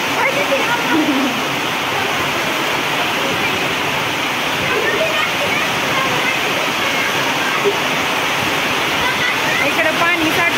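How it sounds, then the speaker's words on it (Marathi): Heavy rain pours while rushing water flows near a cattle shed with a tin roof, a loud dense continuous wash with faint talking underneath. "पाणी वाहायला चालू झालंय बरं का. लय मोठा पाऊस आहे."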